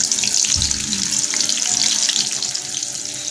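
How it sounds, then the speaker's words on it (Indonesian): Tempeh fries in hot oil in a pan, giving a loud, steady, crackling sizzle with constant bubbling hiss. A brief low bump comes early on, and the frying runs throughout without pause. "Ini kita goreng sampai kuning ya."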